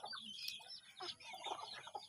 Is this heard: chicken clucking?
yes